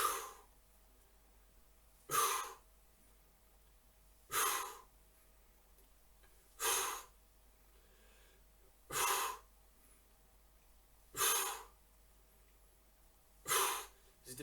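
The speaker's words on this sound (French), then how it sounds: "On souffle bien quand on monte." Heavy exhalations during a beginner HIIT workout come in six strong, evenly spaced bursts about every two seconds, close and loud against a quiet background, with no talk over them.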